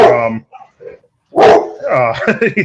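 Several dogs bark in loud, sharp bursts at close range, with a short gap before a second busy flurry of barking and yips; no one speaks.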